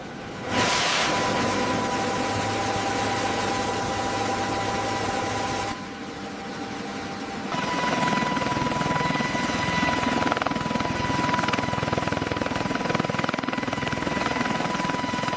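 The rotors and turbine engines of a CH-53K King Stallion heavy-lift helicopter whine and whir as it spools up for flight, a loud, steady drone with a persistent high tone that dips briefly and then builds again.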